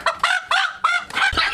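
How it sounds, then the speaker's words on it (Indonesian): A pet rooster calls close by and loud in four quick, squawking honks, each rising then falling, in a comedy skit with no talk over it. "Aduh si Leler nih, ayam jago kesayangan babe si Leler."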